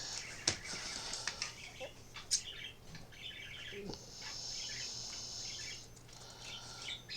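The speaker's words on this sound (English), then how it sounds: "you hear my birds. They think I'm talking to them, and they're just singing away." A pair of pet parakeets, male and female, chirp and warble indoors, faint twittering bursts with a few sharper calls and a soft rustle, fairly quiet over a steady low hum.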